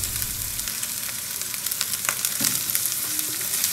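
Dried fish frying in a pan, giving a steady, close sizzle with crackling pops and faint stirring scrapes throughout.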